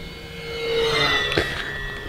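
An E-Flite RV-7 RC model airplane, a 1.1 m electric plane, passes by with a rising then steady high-pitched motor whine, fairly close, with no talking.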